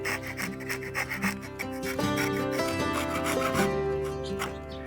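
A Shinto rasp smooths wood on a shave horse, producing steady rhythmic rubbing strokes close by, with tonal background music playing throughout.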